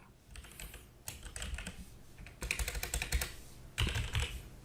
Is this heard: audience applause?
no